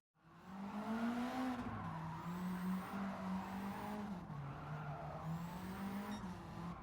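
Engine of a 1967 Alfa Romeo Giulia Sprint GT Veloce with a swapped engine, driven while drifting on the Nürburgring in a racing game, drones steadily with shifting pitch under a continuous tire squeal, held loud and close for the whole stretch.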